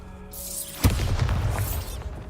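In the video game Hogwarts Legacy, a Bombarda spell lands with one sudden, loud boom that rumbles and crackles for about a second before trailing off.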